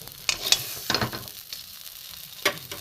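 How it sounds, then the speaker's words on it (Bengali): Pointed gourd stuffing is stirred and fried dry in a pan: a soft sizzle runs underneath scattered scraping stirs of the spatula, close and moderately quiet, with no voices. "এটাকে আমি পুরো নেড়ে নেড়ে একদম শুকনো করে নেব।"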